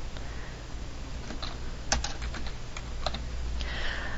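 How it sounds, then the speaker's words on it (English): Typing on a computer keyboard while entering text, a run of irregular clicking keystrokes over a steady background hum. "And then we can type whatever we want."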